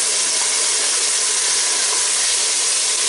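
Grated tomato hits a sizzling sofrito in a pan for a lentil stew, giving a steady, bright hiss of frying that holds evenly throughout with no voices.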